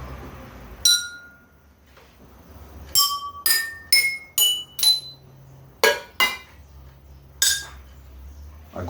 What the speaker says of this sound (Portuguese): Tem as latinhas aqui também, latinha de Nescau, comum, todo mundo tem em casa, e uma colher.